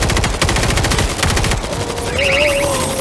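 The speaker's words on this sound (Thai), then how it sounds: "หนูยิงตรงรัวให้อยู่" Rapid automatic gunfire rattles loudly and continuously during a zombie horde attack in the video game World War Z, with a rising electronic tone creeping in toward the end.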